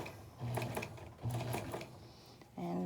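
A sewing machine stitches a fabric face mask in three short bursts of steady mechanical whirring, separated by brief pauses while the cloth is folded and held down.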